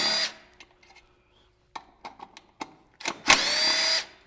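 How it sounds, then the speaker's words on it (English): A few 10 mm screws being removed one by one from the clutch cover of a 2021-or-newer Polaris RZR Turbo: short clicks and tool rattles with gaps between, ending in a louder whirring burst from a power driver. "the first thing you want to do is take out these 6 screws"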